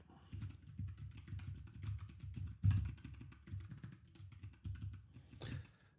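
Close, quiet clatter of typing on a computer keyboard while writing Rust code, with irregular bursts of keystrokes and a few heavier key hits.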